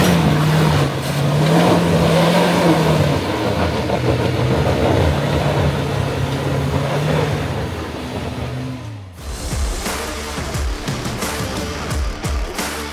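Suzuki Jimny engine working off-road over tough terrain, a steady mid-pitched drone that revs up and down under load, then a brief dip followed by rougher, bumpier engine and rattling sounds.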